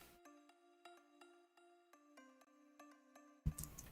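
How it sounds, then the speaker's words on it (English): Bright bell tones ring in a tropical-style music track, struck in an even repeating rhythm with clear sustained pitches over a quiet backing, ending in a brief burst of percussion. "I added some bells"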